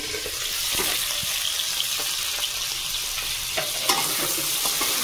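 Chicken curry being stirred as it fries in a pan, a steady close sizzle with occasional scraping and clinking of the spoon against the pan.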